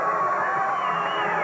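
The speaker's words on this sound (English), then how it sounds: "Look at the crowd. This is the most excited they've been all year." A baseball crowd at an Oklahoma Sooners game roars in a steady wall of cheering and shouting, dense and continuous over a short moment.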